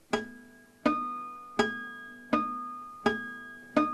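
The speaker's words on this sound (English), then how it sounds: "if I play those where I normally would be plucking the string" Natural harmonics plucked on a guitar at the usual picking position, six separate bell-like chimed notes at a steady pace, each with a percussive attack and a short ringing decay, close and clear.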